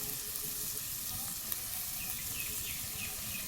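Sliced onions frying in a pan for a Bengali chicken curry with sour yogurt, being pressed apart with a spatula; a steady close sizzle with faint scraping, no talk.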